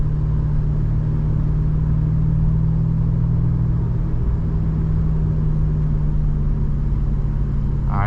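A 2021 BMW M5 Competition accelerating at about half throttle, its engine a steady, loud low drone held evenly throughout from inside the cabin.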